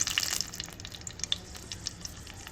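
Dried red chillies frying in oil: sizzling and crackling steadily in a pan, with bright spitting pops scattered throughout; close and fairly quiet, no voices.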